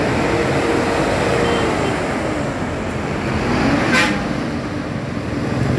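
Intercity buses including STJ Draka roll out in a convoy with Gunung Mulia while a telolet horn sounds. Steady, loud engine and road rumble fill the clip, and a brief tonal horn blast comes near the end.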